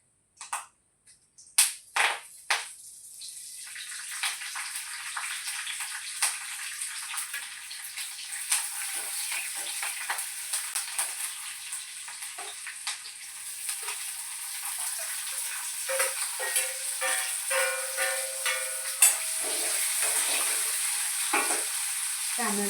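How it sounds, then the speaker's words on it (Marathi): Peanuts roasting with chili and curry leaves crackling in a pan, sharp sputtering pops at the start, then a steady, fairly quiet sizzle with occasional stirring clicks. "शेंगदाणे भाजत आले की मग मिरची, कढीपत्ता टाकायचं।"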